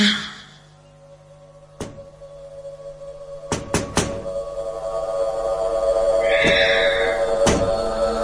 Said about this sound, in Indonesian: seperti seseorang mengetuk jendela kamar ini dengan jarinya